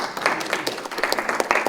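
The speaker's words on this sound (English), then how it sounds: "A round of applause." A gathered group at a birthday celebration gives a round of applause, brisk uneven clapping from many hands, fairly close and loud, with no talk over it.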